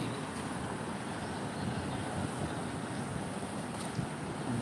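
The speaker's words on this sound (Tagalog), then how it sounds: "Dito muna tayo, mahangin kasi." Low rumbling wind on a fifth floor buffets steadily throughout, a constant blustery roar with no voices.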